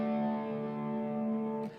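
An electric guitar plays an opening riff in standard tuning, a sustained distorted chord ringing steadily and up close before cutting off abruptly near the end.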